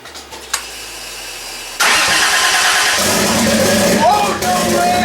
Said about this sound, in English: now I'm just gonna go ahead and try cranking the car again